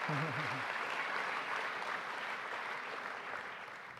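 Sustained crowd applause for all-region fall sports athletes at a newspaper's regional sports awards ceremony, a broad, even wash of clapping that fades slightly, with a voice briefly heard at the start.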